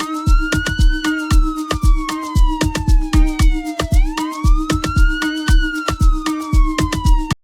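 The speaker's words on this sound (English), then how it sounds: "then we have like a siren." A looping siren sample sweeps slowly up and down over a steady pulsing beat made in FL Studio, loud and close, with sharp rhythmic hits driving under the wail.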